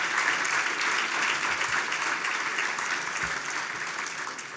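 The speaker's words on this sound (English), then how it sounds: "So round of applause for those we lost this last year." Sustained audience applause fills an awards ceremony hall, a dense, steady wash of many hands clapping at close range, holding level throughout with no talk over it.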